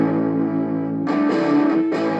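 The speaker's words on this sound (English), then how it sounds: "I can make a distortion circuit with just 3 components, 2 capacitors and this power amplifier chip." Guitar played through a simple homemade distortion circuit built around an LM386 power amplifier chip with two capacitors, giving a sustained, buzzing overdriven tone that swells brighter partway through and again near the end, with no talking.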